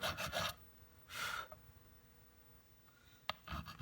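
Rasping strokes of a file flattening wood on a Stew Mac Mini T guitar kit come in short bursts, a quick pair at the start, one longer pass, then more after a quiet gap with a small click.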